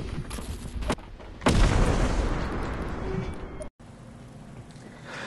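A grenade blows up in the video game Content Warning, a sudden loud blast followed by a long rumbling decay, preceded by a quieter burst and a short cut-off near the end, with no speech over it.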